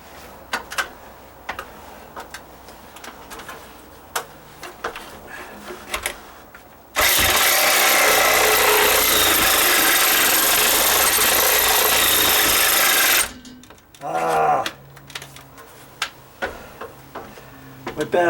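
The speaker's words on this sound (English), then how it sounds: "The joys of a battery operated Sawzall" A battery-operated Sawzall reciprocating saw with a 9-inch blade cuts through a wall plate during dry rot repair, a loud continuous buzzing run of about six seconds amid scattered knocks and handling noises.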